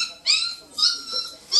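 A stray dog found wandering on a harbour dock on Réunion cries out in a series of close, high-pitched whimpering yelps, with short pauses between each cry.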